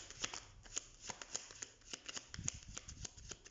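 Tarot cards are shuffled by hand at close range, giving a rapid run of crisp riffling snaps and soft slaps in an irregular rhythm, quiet and without talk.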